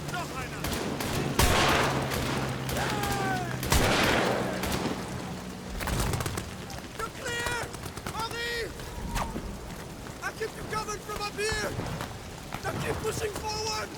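Gunfire in the horror game Amnesia: The Bunker, loud rapid volleys and sharp booms with chaotic bursts and echoing tails, mixed with someone talking over the action.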